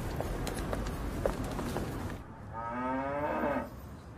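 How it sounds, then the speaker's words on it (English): A cow moos once in a long, low, wavering call after a stretch of rustling and faint scuffs, heard fairly close and alone without talk. "We even got the help of Lulu, Britain's cutest cow."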